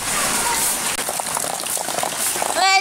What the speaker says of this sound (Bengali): প্রচুর পরিমাণের বৃষ্টি হচ্ছে